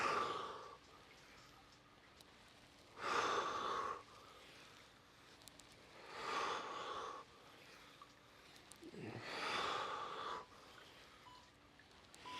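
Heavy rhythmic breathing during a bodyweight exercise circuit, four strong exhale bursts spaced a few seconds apart over quieter inhales, close and alone with no talk.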